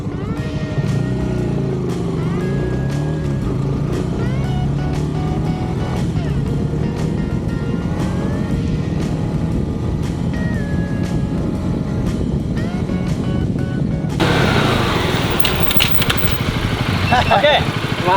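A motorcycle engine runs steadily at a riding training center, a continuous low drone with small rises in revving, while a person speaks over it and the sound turns brighter and louder near the end.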